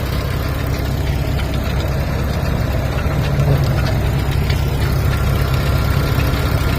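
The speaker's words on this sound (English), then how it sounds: "There we are, powered by the tractor here." A vintage tractor engine runs steadily at an agricultural preservation show, a close, loud, continuous low rumble with a fast chugging pulse and no break in the sound.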